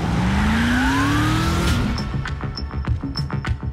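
A car drives hard with tires squealing in a loud, continuous rush, the pitch sliding as it skids, followed by sharp rhythmic engine and impact bursts, in a movie-trailer style action scene.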